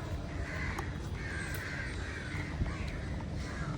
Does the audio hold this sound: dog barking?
no